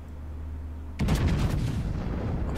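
Battleship main guns firing in World of Warships, a sudden loud, heavy boom that breaks a low engine hum and rolls on into a long rumbling roar.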